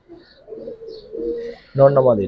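Pigeons coo in soft, low calls, then a louder, closer burst of cooing near the end, with a voice talking over part of it.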